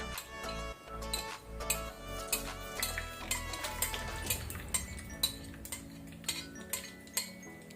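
Mustard seeds sputter and pop in hot coconut oil, a steady run of sharp close crackles and ticks over about eight seconds with no talking.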